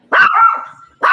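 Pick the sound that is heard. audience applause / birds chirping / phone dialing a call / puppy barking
puppy barking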